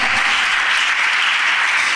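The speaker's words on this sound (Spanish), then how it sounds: "Dale un aplauso fuerte al Rey de Reyes, Señor de señores" Loud, dense applause from a church congregation honoring the King of Kings, a continuous wash of clapping that stays even throughout.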